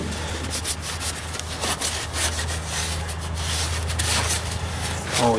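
A rag soaked in brake cleaner is rubbed over a part of a 1944 Ford 2N tractor, making steady close scrubbing and wiping strokes that run continuously.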